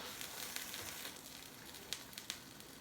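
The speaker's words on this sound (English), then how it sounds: "And if you hear the sizzle, that's good." Vegetables sizzling as they fry in a pan, a faint steady hiss with a few soft crackles and pops, alone without talk.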